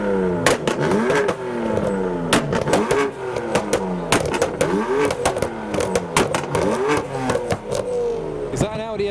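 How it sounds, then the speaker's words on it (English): Audi S4 engine revving at a busy car meet, a rapid series of sharp throttle blips rising and falling, loud and close, with crowd chatter and other engine noise underneath. "Is that an Audi S4 that's revving now?"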